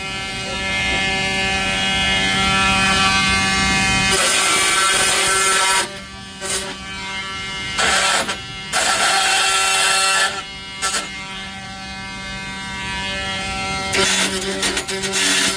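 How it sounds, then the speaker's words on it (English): An oscillating multi-tool cuts in a kitchen remodel, its buzzing, vibrating drone coming in close bursts with several short pauses between cuts. "I don't really like this multi-tool if I'm being honest about it."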